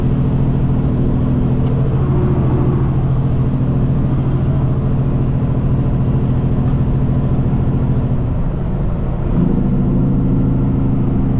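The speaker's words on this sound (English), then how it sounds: "Traffic's thick coming back" Road traffic is heard from inside a truck cab: a loud, steady engine drone and road rumble holding for the whole stretch, shifting pitch near the end, with no talk.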